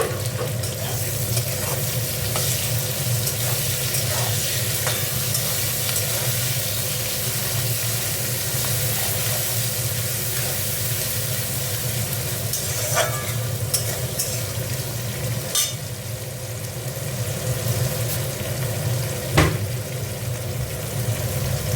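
Chopped tomato sizzles steadily in hot oil for a koi fish curry, with a continuous close frying hiss and occasional stirring scrapes throughout.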